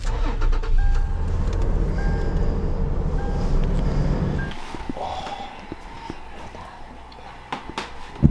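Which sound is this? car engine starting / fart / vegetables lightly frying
car engine starting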